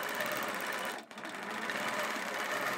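Longarm quilting machine on a frame stitching a sharp stippling background, a rapid steady mechanical whir with a brief dip in the middle, close and continuous.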